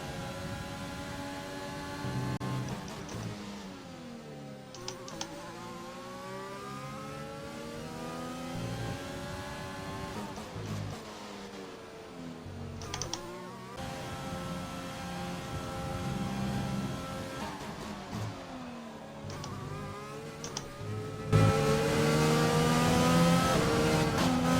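A Formula 1 race car engine in a racing video game revs and shifts through gears, pitch climbing and dropping in repeated sweeps, steady and fairly close, ending on a louder high whine.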